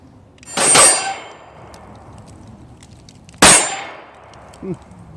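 An H&K pistol magazine goes in with two sharp metallic clangs about three seconds apart, loud and close, and a small click follows near the end, with quiet between the hits and no voices.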